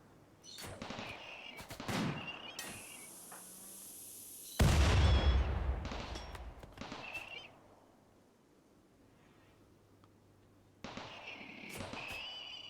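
Autocannon and turret gunfire in RimWorld comes as scattered bursts of sharp shots and pops, with one heavy, booming blast near the middle, a quieter stretch afterward, then more firing near the end; some brief talk.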